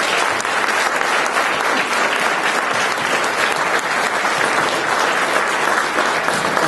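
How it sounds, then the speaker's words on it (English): Audience applause for a panel at the close of a discussion, a loud, sustained round of many hands clapping that stays even throughout without a pause. "Let's give a round of applause to the panel."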